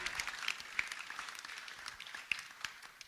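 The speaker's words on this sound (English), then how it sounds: "Yeah, sure, you can clap for that." Wedding guests clap during a best men's toast given by the groom's older brothers: scattered, moderately faint applause with a few sharper individual claps, steady for about three seconds and heard alone.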